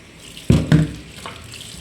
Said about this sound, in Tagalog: Hugasan natin tong malunggay.